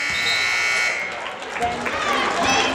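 Loud sustained buzzer sounding at the end of a quarter in a girls' varsity high school basketball game, ringing over crowd noise with an announcer talking.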